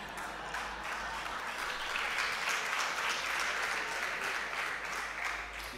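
An audience at a public forum on democracy in Tanzania claps together, with a dense, even wash of applause that swells slightly and then holds steady throughout.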